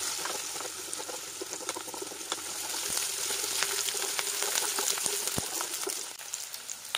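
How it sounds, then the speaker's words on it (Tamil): Small onions, curry leaves and dried red chillies sautéing in a pan for banana flower sambar, giving a continuous, fairly quiet sizzle and crackle with scattered sharp pops and no talk. "சேர்த்து நல்லா வதக்கிடலாம்."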